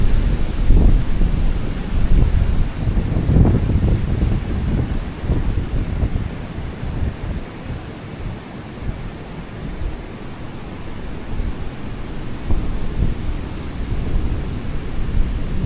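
Strong wind gusting across an outdoor camping site, a steady low roaring rush with heavy buffeting against the microphone, loudest in the first few seconds and continuing unbroken throughout.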